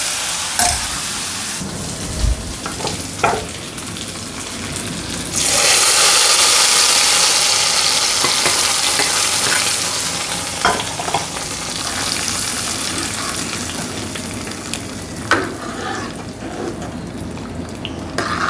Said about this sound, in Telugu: ఇప్పుడు ఇది తీసుకొచ్చి మనం తాలింపు వేసేద్దాం.